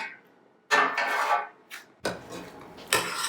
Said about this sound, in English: This is a jolly good old stir, so everyone gets a bite of everything.